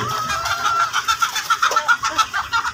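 A pet laying hen clucks close by, a quick rhythmic run of repeated soft clucks over a low background hum.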